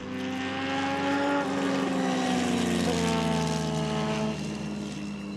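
Loud droning propeller aircraft flying very low, a few metres from a motorcycle near the ground, its engine pitch sliding downward as it goes past, heard alone without talk.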